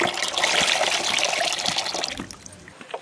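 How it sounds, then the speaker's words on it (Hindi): Cold tap water pours into strained mango pulp in a kitchen, a steady splashing gush that tapers off toward the end. "अब इसमें हम ठंडा पानी डालेंगे ठंडा पानी मैं नलके का डाल रही"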